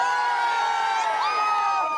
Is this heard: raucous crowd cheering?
yes